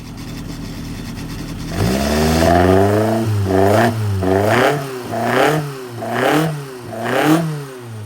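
A Porsche 930 engine on a dyno catches and fires up, then revs repeatedly in rising and falling sweeps, loud and close, settling briefly between each blip of the throttle.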